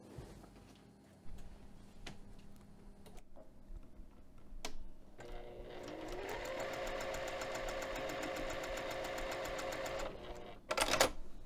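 A sewing machine top-stitches the seam of a bag side pocket, with a few faint ticks first, then a steady, fast, close mechanical whir for several seconds before it stops.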